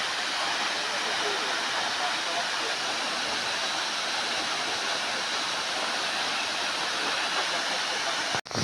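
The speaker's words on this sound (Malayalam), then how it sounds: "ഇതാണ് നമ്മൾ പറഞ്ഞ സ്ഥലം, സൂചിപ്പാറ വാട്ടർഫാൾ." Suchippara waterfall roaring steadily close at hand, a dense unbroken rush of falling water that fills the whole stretch before a brief cut at the end.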